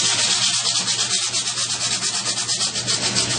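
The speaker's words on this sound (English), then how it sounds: "Use your emery cloth" Emery cloth rubs quickly around a metal pipe to clean its surface before a pinhole leak repair, a close, rhythmic scratchy sanding with fast, even back-and-forth strokes.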